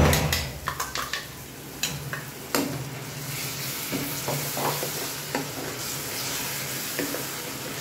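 Tomato puree for pav bhaji hits a hot pan with a sharp sizzle, followed by clinks and scraping of a spoon against the pan as frying continues at moderate volume.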